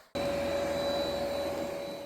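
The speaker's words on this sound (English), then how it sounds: "I will first perform vacuum and targeted dust removal on carpets before switching to full wet vacuum and mopping" An ECOVACS DEEBOT X9 PRO OMNI robot vacuum starts up abruptly and holds a steady, close whirring motor drone with a constant tone, alone without talk.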